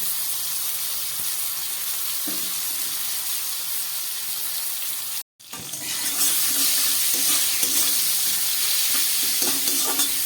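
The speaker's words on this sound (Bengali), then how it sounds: "খুব ভালো করে আমি একটু ভেজে নিচ্ছি।" Potatoes and pointed gourd frying with turmeric in a pan, a constant loud hissing sizzle broken by a brief cut, then stirring scrapes over the continuing fry.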